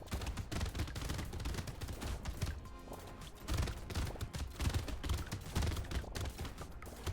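Rapid shotgun fire in the video game Brotato crackles in dense, continuous bursts layered over game music, with no pauses across the stretch.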